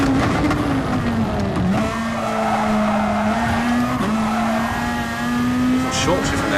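Race car in a racing video game sliding into oversteer, a steady tire squeal holding through the slide with engine tone underneath and brief pitch dips, loud and continuous.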